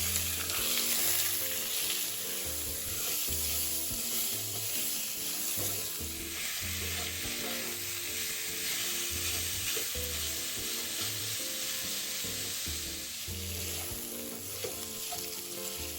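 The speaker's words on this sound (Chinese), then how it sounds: "热锅下少许油，再倒入花肉，文火煸一煸。" Pieces of pork belly fry over low heat in a lightly oiled hot wok, producing a steady, dense sizzle with occasional stirring, close by and continuous throughout, with background music running underneath.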